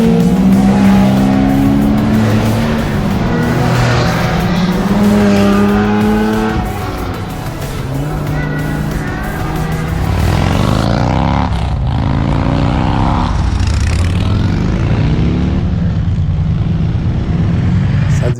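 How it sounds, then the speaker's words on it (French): Exotic cars at a car meet roar past one after another, engines revving loudly with rising and falling pitch and some tire squeal, close by on a road-trip stop, with a little background chatter. "peut-être encore un rassemblement de voitures exotiques, mais ça avait un beau son."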